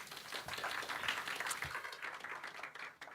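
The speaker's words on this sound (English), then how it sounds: "Big round of applause." Audience applause at the opening session of a 2024 research forum. It sounds as a steady, moderately distant wash of clapping that carries on without a break and is fairly quiet.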